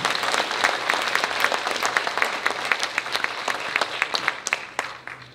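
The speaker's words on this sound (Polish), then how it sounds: "Wielkie brawa." Applause from a concert audience at a choir's 25th anniversary jubilee concert in a hall, many hands clapping at moderate distance, swelling slightly then thinning and fading out toward the end.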